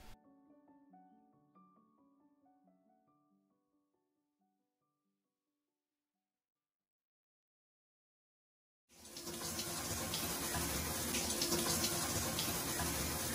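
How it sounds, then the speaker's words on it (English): Soft music fades into silence, then a shower bursts on near the nine-second mark, its running water hissing loud, steady and close until the end. "it's time to take my shower."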